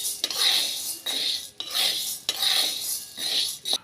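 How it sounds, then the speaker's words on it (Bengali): Dry sago pearls are stirred and scraped in a hot, oil-free wok, giving repeated gritty, rasping strokes in an uneven rhythm of about five passes, close and moderately loud, with no talking. "কড়াই বসিয়ে দিয়ে এই সাবুগুলোকে শুকনো কড়াই দিয়ে দিচ্ছি, কোনো রকম তেল কিছু ব্যবহার করি না"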